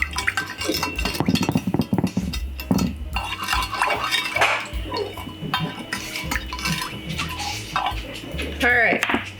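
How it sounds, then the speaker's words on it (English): A spoon stirs citric acid into water in a bowl, with repeated close clinks and scrapes against the dish and light sloshing, mixed with some speech. "And stir it to dissolve it up."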